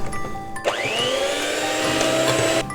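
Gelatin-based glaze for Easter paska is mixed, with a motor whine that rises quickly in pitch and then holds a steady, loud whir close by.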